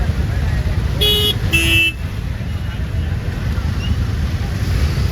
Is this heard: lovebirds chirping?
no